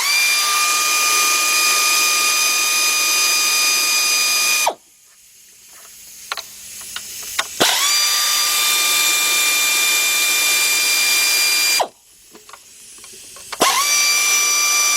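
Power ratchet whirring steadily on 12mm bolts on an Isuzu Rodeo–type engine during timing belt work, two long loud runs broken by quiet gaps with small clinks and handling noises.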